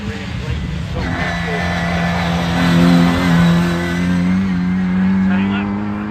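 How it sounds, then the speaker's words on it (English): A Morris Cooper S racing car at a hillclimb, its engine revving and winding up with rising and falling tones, fairly close and sustained, under a commentator's talk. "Morris Cooperess, VMC 8 Series engine winding away under the bonnet"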